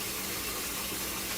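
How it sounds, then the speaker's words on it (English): Tap water runs steadily into a sink as potatoes are washed with a soapy sponge, a continuous close gush with no voices. "So you just got to wash your potatoes."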